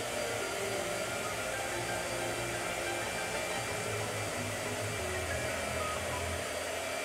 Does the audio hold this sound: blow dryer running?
yes